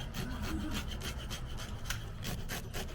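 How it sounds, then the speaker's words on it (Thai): Scales being scraped off a freshly caught trout: a close, rapid rasping scrape repeated in quick rhythmic strokes, steady and fairly loud, with no talking. "ขูดเกล็ดนะฮะ"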